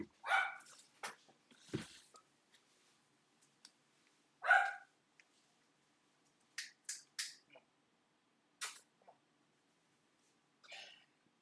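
A dog left alone in a living room barks in short, sharp bursts scattered across the stretch, some louder and nearer, others brief and clipped, with quiet gaps between them.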